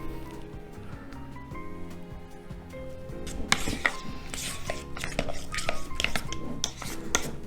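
A utensil stirs chunks into syrup for a biscuit filling, producing irregular clinks and scrapes against a bowl, sparse at first and then a busier cluster of rattling taps and wet squishes.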